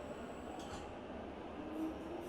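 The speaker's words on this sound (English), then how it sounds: "You hear a Jubilee Line train passing as well" A London Underground Jubilee Line train passes in a train simulator game, a steady low rumble of wheels on track holding at an even level throughout, with no voices.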